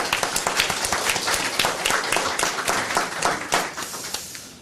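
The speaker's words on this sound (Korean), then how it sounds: "우리 서로에게 격려의 박수 한번 할까요?" Church congregation clapping together, a dense, continuous round of applause from many hands that stays fairly even throughout, then starts to fade toward the end.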